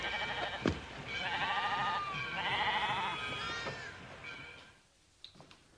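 Sheep bleat repeatedly at close range in a quavering, wavering series of cries that fills most of the moment before it fades into quiet, with a few soft knocks at the end.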